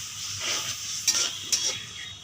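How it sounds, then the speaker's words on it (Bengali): Shrimp being stirred with onions in a sizzling pan, a steady frying hiss broken by two sharp scrapes or clinks of the utensil against the pan, close and with no talk. "এবারে দিয়ে দেওয়া হচ্ছে চিংড়ি মাছটাকেও ভালোভাবে পেঁয়াজের সাথে মিশিয়ে নেওয়া হচ্ছে।"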